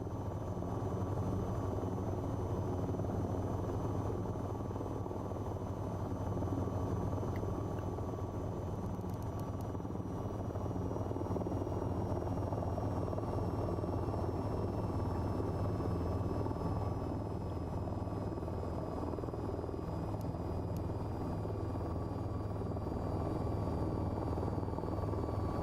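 Steady VTOL aircraft engine drone from a video game, a continuous rotor-like hum with a whine that holds level and fairly loud throughout, with no talking.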